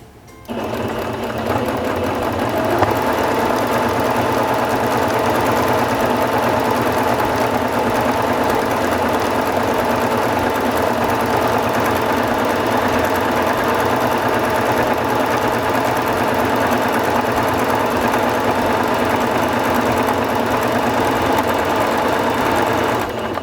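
A Singer Fashion Mate 5560 sewing machine runs continuously for the whole stretch, sewing a decorative stitch with a loud, steady, close motor hum and rapid needle clatter.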